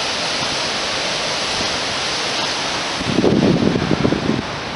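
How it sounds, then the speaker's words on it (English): A waterfall near Wind Cave in Darby Canyon, Wyoming, gives a steady, dense rushing roar heard loud and unbroken, with a brief burst of louder rumbling near the end. "Waterfall is a lot bigger than it looks uh, from across the valley."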